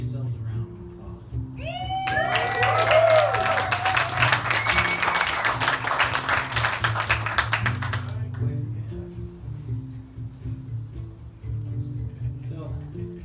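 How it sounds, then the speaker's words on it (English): Audience applause and cheering at a live band concert in a mill barn in Mulino, Oregon, a dense burst of clapping lasting several seconds, with a whistle near the start, under low band noise that continues after it stops. "Give yourselves a round of applause."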